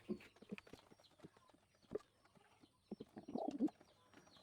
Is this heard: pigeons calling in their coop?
yes